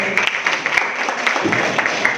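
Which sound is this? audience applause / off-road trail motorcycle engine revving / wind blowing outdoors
audience applause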